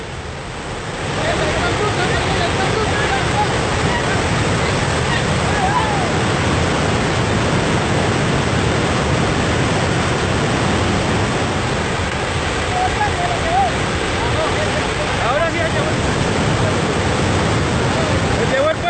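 Floodwater rushes in a loud, unbroken roar as it washes away a bridge during catastrophic flooding, a steady wall of noise that holds its level from start to end.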